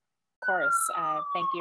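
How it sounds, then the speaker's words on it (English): An emergency siren wails steadily in the background on a New York City street, one continuous tone running beneath someone talking close by. "apologies if you can hear a siren in the background"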